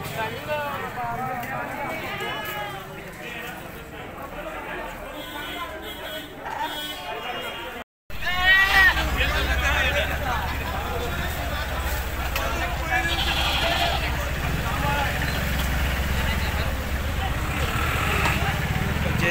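Goats and sheep bleat at a busy weekly livestock market in Murgud, repeated cries near and far over crowd babble and people talking, with a louder noisy stretch in the second half.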